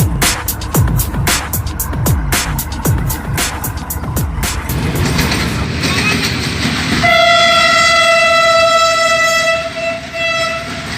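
A Bahauddin Zakariya Express train departing a station: loud rhythmic clickety-clack of wheels over rail joints gives way to a sustained, steady horn blast heard close by.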